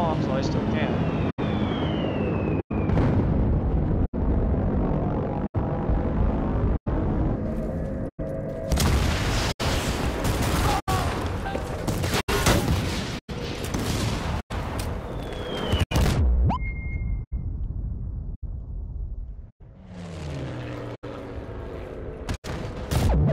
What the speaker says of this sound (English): Drop the bombs while I still can.